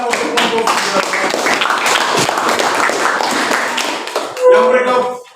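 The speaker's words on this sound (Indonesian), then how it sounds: "tepuk tangan untuk kelompok" A classroom audience claps for a student group during a teaching practice session, dense steady applause lasting several seconds before fading into a brief murmur of voices.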